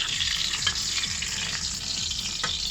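A steak fries in a pan beside a batch of fries, giving a loud, dense, continuous sizzle with faint scraping as the meat is turned, heard close and with no voices.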